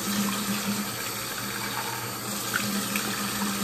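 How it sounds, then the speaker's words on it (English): Tap water runs steadily into a sink while someone rinses cleanser off their face, a continuous close splashing hiss with no talking. "Okay, so I'm gonna rinse my face and get all the cleanser off."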